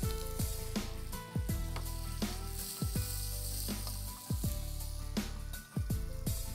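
Green chili and ginger frying in hot oil with mustard seeds and cumin, a loud continuous crackling sizzle broken by frequent sharp pops and spatters, close up.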